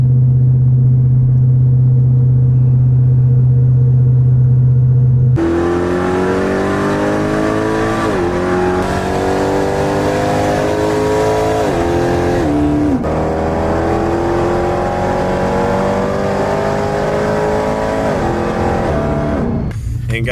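A powerful 1,000 hp Jeep Trackhawk SUV engine idles low, then roars to life and revs repeatedly, pitch climbing and dropping in loud, close bursts from the exhaust.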